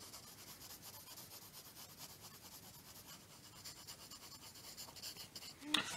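An H pencil scratches and rubs on paper in quick, soft back-and-forth shading strokes while an eye is drawn, faint and close, with a brief louder scrape near the end.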